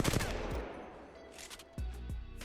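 Gunfire in Apex Legends while wall jumping: a short burst of rapid shots at the start, then two sharp, loud reports with landing thuds near the end, all close and without talk.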